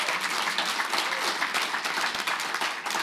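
An audience at a community gathering claps steadily, a dense and even wash of many hands applauding together close by, with no talk over it.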